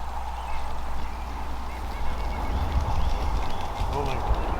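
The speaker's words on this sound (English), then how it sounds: "We got geese here right now." Geese honking in a scattered, overlapping chorus over steady low wind rumble, with a few louder calls near the end.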